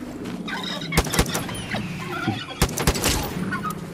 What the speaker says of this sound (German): Nicht euer Ernst, ich wurde von Truthähnen gekillt.